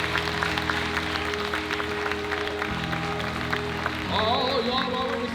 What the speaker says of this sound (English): let's give God a hand clap of praise just for being in this place tonight